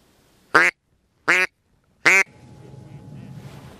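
Ducks at flooded peat quarries during an August hunt: three loud, evenly spaced quacks ring out close by, then a soft rustling hiss follows.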